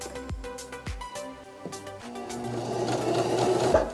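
Baby Lock sewing machine stitching the bottom of a buttonhole, a rapid run of mechanical stitch clatter that starts sparse and builds into a steady, louder whir near the end, with no talking.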